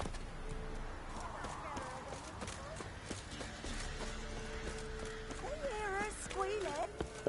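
Roach the horse gallops in The Witcher 3, a steady run of hoofbeats under background game sounds, with a short burst of louder noise at the end.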